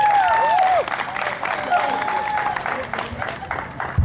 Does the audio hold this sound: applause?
yes